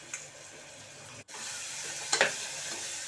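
Vegetables with chili powder and ginger-garlic paste for veg biryani are stirred in a hot pan, a steady soft sizzle with a brief pause and a sharper scraping burst near the end.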